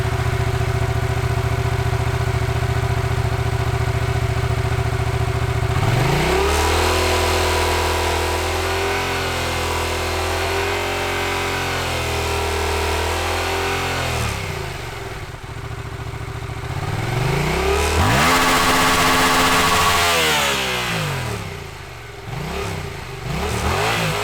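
A Yamaha MT-07 motorcycle with a carbon fiber exhaust, heard alone and close: a steady idle, then throttle blips swelling and falling through the revs, a pause, and a sharper run toward redline before settling back.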